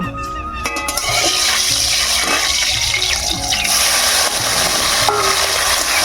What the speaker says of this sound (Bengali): চিংড়ি মাছটা আগে ভেজে নেব